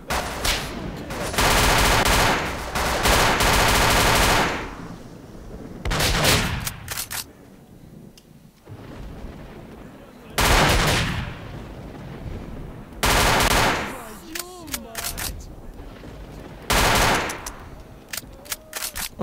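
Gunfire in the video game S.T.A.L.K.E.R. Shadow of Chernobyl: loud, close bursts of automatic fire come in several separate volleys with short pauses between them.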